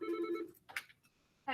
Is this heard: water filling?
no